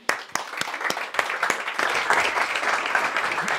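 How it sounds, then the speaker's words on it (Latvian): A live audience at a Latgalian prose reading evening claps to welcome a speaker. The applause is steady, dense and fairly close, rising after a few scattered opening claps and holding at an even level throughout. "Sagaidām ar aplausi."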